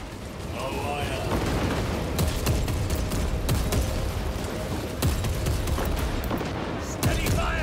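Dense gunfire fills the game battle in Warhammer 40,000 Space Marine 2, with sustained bursts and sharp shots running throughout under shouted voices.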